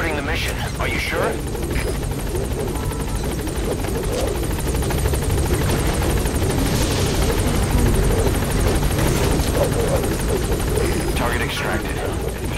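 A helicopter hovers in the video game Metal Gear Solid V: The Phantom Pain, a steady, dense rotor and engine drone running the whole time with voices heard over it.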